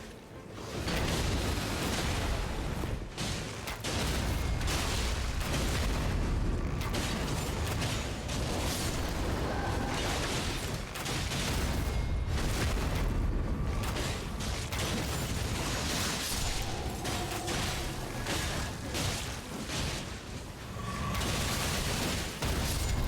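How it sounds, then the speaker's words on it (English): Explosions in the video game Elden Ring Nightreign, a dense barrage of loud booms and crackling bursts piling on top of one another, with game music and effects running continuously throughout. "Look at that fucking explosion when everything happens at once"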